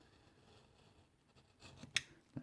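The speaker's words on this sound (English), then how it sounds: "how to cut it out with a knife" A knife cuts freehand along the printed lines of a paper cube model: faint, soft scraping, then a few sharper clicks and scratches near the end.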